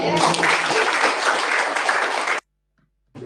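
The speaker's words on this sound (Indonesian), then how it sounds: "Tepuk tangan untuk Yesus" A crowd bursts into steady applause for a couple of seconds, then it cuts to silence before a brief sound returns at the end.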